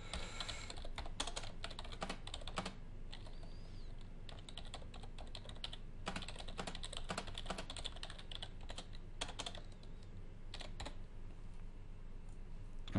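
Fast typing on a computer keyboard while entering a message in a file-sharing web app, a close, steady patter of key clicks with brief pauses and bursts, with no voices.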